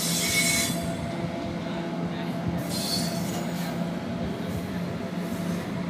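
A WAG-9H goods locomotive rolls through a busy station, wheels squealing in high shrill bursts over a continuous heavy rumble, with distant voices around.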